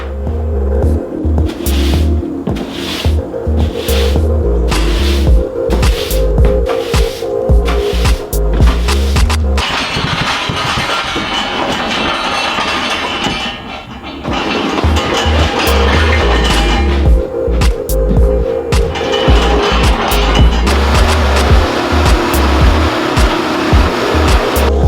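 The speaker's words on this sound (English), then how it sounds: "Treatment, hit it with an angle grinder." An angle grinder works over the metal body of a Tesla-powered Volkswagen Vanagon, a loud, steady whining roar that runs almost without a break, dipping once briefly midway before surging back.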